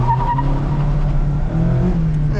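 A 2024 Mazda MX-5 GT RS manual launches hard from a standstill, its engine droning loud and close with a faint tire squeal as the rear wheels spin briefly.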